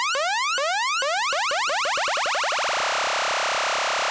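A Behringer Pro-1 analog synthesizer plays a harsh, modulated oscillator tone as repeated rising chirps that speed up until they blur into a continuous buzzy roar, loud and close with no voices.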